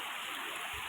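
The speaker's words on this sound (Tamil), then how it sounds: "அழகான சின்ன ஒரு அருவி மாதிரி வருது. வாய்க்கால் இருக்கு, அழகாக வரும்." Water pours in a steady, unbroken rush down a small waterfall and along a canal, heard up close as broadband outdoor noise with no voices.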